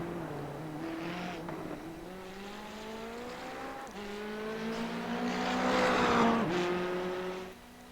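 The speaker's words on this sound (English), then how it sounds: "Pushing his McLaren GT4 to the limits, and Frazier now coming out on track as well" A McLaren GT4 race car screams through its gears in a sports car racing video game at the Motegi circuit, engine pitch climbing repeatedly with sharp drops at each upshift, loud and steady throughout with no talk.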